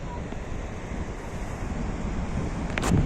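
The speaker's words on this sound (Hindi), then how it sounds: "ये सामने इधर वाटरफॉल है" A waterfall in Kashmir, seen from a rough off-road mountain track, gives a steady rushing roar mixed with wind buffeting, swelling a little louder toward the end.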